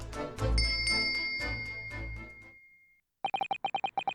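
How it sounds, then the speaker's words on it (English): A bell cord is pulled in The Great Ace Attorney, and a ringing bell rises over game music, then a fast run of about eight bright chimes follows after a short silence. "Yes, it's a bell cord."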